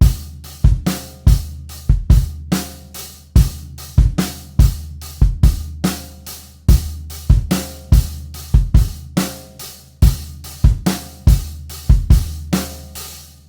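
A drum kit plays a steady, energetic grunge rock groove at forte, with kick, snare and cymbal hits repeating bar after bar, loud and close with no talking.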